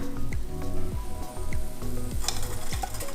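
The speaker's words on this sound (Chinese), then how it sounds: "猪油炸红葱头" Shallots fry in pork lard over low heat, a close steady sizzle broken by regular stirring strokes and tonal scrapes of utensil against the pan.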